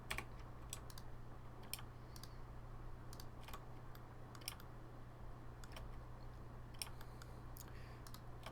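Computer keyboard keys clicking in irregular bursts while working in 3D modeling software, close and fairly quiet over a steady low electrical hum, with no talking.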